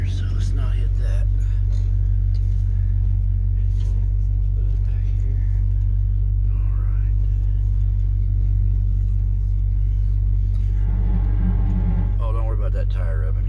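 A 1963 Ford Fairlane's engine idles with a deep, steady low rumble while backing up, running smoothly throughout; someone talks intermittently over the engine.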